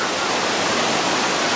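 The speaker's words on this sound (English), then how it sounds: "This is Duns River Falls, Jamaica." Steady broadband rush of Dunn's River Falls in Jamaica, a continuous loud wash of cascading water with no voices over it.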